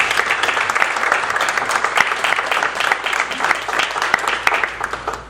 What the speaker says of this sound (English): So everyone, Tom Munneke, round of applause, please.